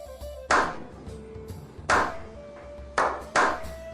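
NPC tavern patrons in Skyrim give a slow clap: four sharp, ringing claps spaced well apart over a quiet room hum.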